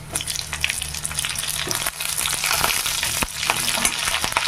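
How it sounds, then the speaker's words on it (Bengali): Garlic and green chillies fry in a hot pan with a dense, continuous sizzle and crackle, broken by scraping stirs, close and loud with no talk. "রসুনটা বেশ আমার ভাজা হয়ে গেছে এবার আমি দিয়ে দেবো ঝালের জন্য মরিচ কাঁচা মরিচ"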